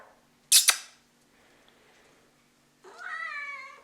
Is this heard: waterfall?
no